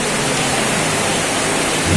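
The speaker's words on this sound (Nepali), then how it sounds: "यत्रो पानी झरिरहेछ कहाँबाट झर्छ" An indoor waterfall fountain in Dubai Mall pours and splashes in a dense, steady roar of falling water, loud and continuous without talking.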